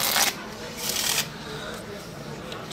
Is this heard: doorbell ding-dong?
no